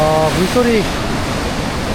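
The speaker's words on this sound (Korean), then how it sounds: "물소리가 너무 좋다." Water from a waterfall or stream in New Zealand rushes in a steady, loud, close wash, with people's voices briefly over it at the start.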